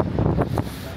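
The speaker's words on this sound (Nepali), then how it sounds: "जाडो भयो किनभने यो हावाले यहीँ हाने" Cold wind gusts near a river, buffeting the microphone in loud, uneven rumbling bursts with no one speaking.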